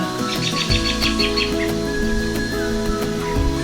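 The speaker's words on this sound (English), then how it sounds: "Ooh, the birds are loud today." Birds chirp and tweet loudly and constantly in Dallas, Texas, layered calls overlapping against a busy outdoor background.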